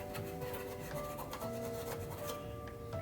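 Steady rubbing and scraping while cleaning a lock relay part from a 1974 Williams Star Action pinball machine. It is close and continuous, with a fine rasping texture and no pauses.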